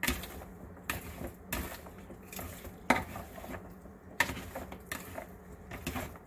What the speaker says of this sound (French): je vais le remuer.